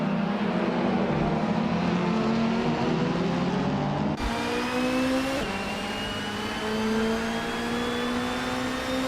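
AI-driven race cars in a nonstop racing video game, a loud continuous engine whine with rising and shifting pitch as gears change, one car's drone handing off to another partway through, no voices.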